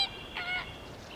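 A bird in the Everglades marshland gives a single honking call, faint and at a distance against a quiet outdoor background, with no talk.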